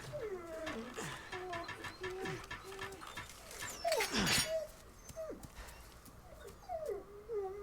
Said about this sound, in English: I do hear the dog.